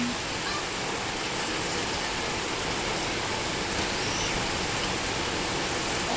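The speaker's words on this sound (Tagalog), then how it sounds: "Pabugso-bugso yung ulan. Pero pagka umulan siya, sobrang lakas." Heavy typhoon rain pours steadily and loudly, a dense continuous roar of falling water that fills the whole scene at close range.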